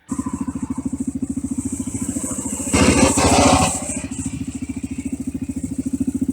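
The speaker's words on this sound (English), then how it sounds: "That's the last burnout that car ever did" A well-worn, high-compression Oldsmobile 98 with an Olds 330 V8 lopes at a rhythmic, pulsing idle, then bursts into a roughly one-second roaring, hissing rush as it does a burnout, before dropping back to the steady throb.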